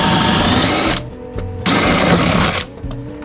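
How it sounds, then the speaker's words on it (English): A power drill bores through a wooden floor joist that is not a rim joist, close and loud, with two long steady whirring runs broken by a brief pause and a short burst between them. "It shouldn't be too hard to drill through."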